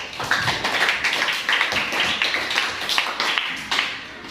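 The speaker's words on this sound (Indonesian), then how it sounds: "Yuk tepuk tangan untuk kelompok cerdas." Schoolchildren in a classroom clap together for a group of classmates, with quick rhythmic bursts of hand claps close by and short pauses between them.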